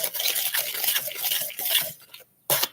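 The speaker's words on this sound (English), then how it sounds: "I'm going to use my old-fashioned tool, which is a whisk." A whisk beats activated charcoal into a soap mixture in quick, rough strokes, a wet scratchy swishing that is close and busy, then stops briefly before one short burst at the end.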